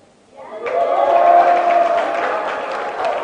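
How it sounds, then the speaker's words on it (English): A live audience breaks into loud applause after a magician's card trick, a sudden burst of clapping and cheering that rises quickly and holds steady to the end. "a big round of applause for her"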